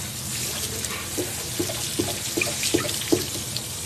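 Water rinsing a motorcycle during a hand detail, a steady splashing spray with irregular spatters and drips as soap and grime are washed off, close and continuous with no talking.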